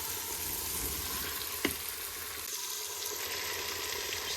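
Food sizzling steadily in a Cookeo pressure cooker set to browning mode, spiced with harissa for Tunisian pasta, a continuous close frying hiss with one brief sharp clink partway through.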